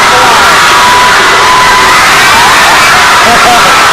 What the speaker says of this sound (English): all the crowd is getting in, it's a full house tonight